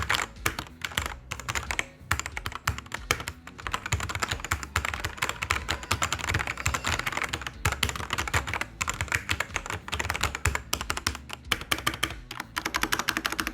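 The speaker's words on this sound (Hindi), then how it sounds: "तो अब कीबोर्ड की आवाज़ सुना देता हूँ मैं आपको।" Continuous typing on a Redragon Caraxes Pro K644 SE 65% wireless mechanical keyboard with hot-swap red switches: dense, rapid key clacks in steady irregular bursts, close and clear with no talking.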